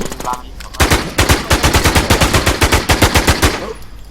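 Loud, rapid automatic gunfire in a video game, a long sustained burst of evenly spaced shots following a brief moment of voice at the start.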